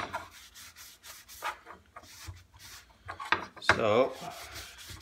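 A metal kunai blade is polished by hand: rhythmic rubbing strokes, close and raspy, with one brief spoken word early on.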